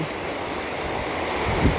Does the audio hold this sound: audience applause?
no